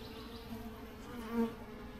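A weak, dying honey bee hive with very few bees gives off a steady, close insect buzz, one wing tone briefly swelling louder near the middle, with no voices.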